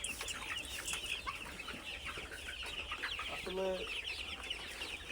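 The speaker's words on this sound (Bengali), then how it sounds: "মুরগি দেখা যাচ্ছে" Brown cock chickens on a poultry farm cluck and chatter continuously in a dense, busy background, with one louder nearby cluck standing out as someone briefly speaks.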